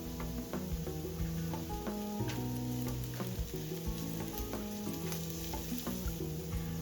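Garlic and softened vegetables sizzle steadily in a hot pan while being stirred for Ukrainian borscht, a continuous close frying crackle with soft scraping stir sounds and no talk.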